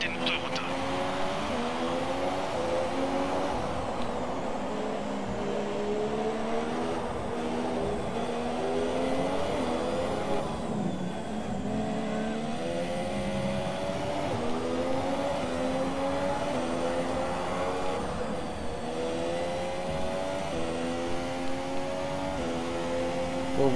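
Formula 1 race car engine in the F1 2017 video game at Singapore, a continuous loud high-pitched whine rising and falling through gear changes, with a voice talking over it throughout.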